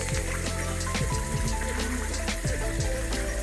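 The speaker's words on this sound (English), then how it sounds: "This little waterfall." A small waterfall splashing into a pond stocked with large carp gives a steady, close rush of falling water, with a faint tonal hum running underneath throughout.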